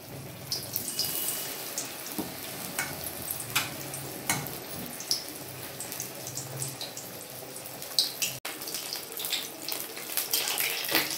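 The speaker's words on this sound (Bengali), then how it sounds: "আমি এইভাবে ফ্রাইগুলো ভেজে নেব" Battered bhetki fish pieces fry in hot oil with a continuous crackling sizzle, punctuated by sharper pops, close and moderately loud.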